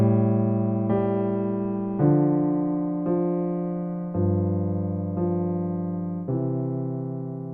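Piano playing a lounge-style left-hand part in two voices for a song, steady sustained chords changing about once a second, mellow and close with no talking.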